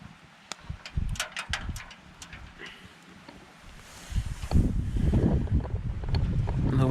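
Wind gusting outdoors at a backcountry New Zealand riverside camp, a soft rushing hiss that swells into a louder, buffeting roar over the microphone in the second half.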